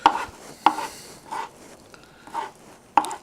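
Knife chopping fresh cilantro on a cutting board, about five sharp distinct thwacks spread unevenly over a few seconds, close and clear with no talking.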